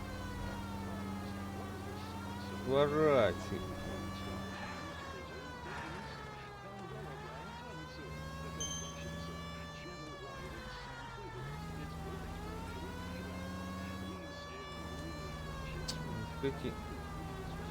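Police car siren wailing in a steady rising-and-falling cycle while driving in the video game L.A. Noire, loud and continuous under a man's occasional speech and engine hum.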